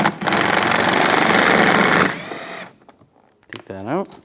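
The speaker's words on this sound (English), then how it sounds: "I'm going to take this screw out. I'm going to use a T15 socket." A power tool with a T15 socket whirs steadily for about two seconds, backing a screw out of a mud flap on a 2010-2016 Cadillac SRX, then winds down, followed by a brief voice.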